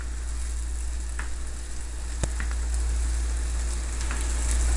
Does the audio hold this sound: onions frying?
yes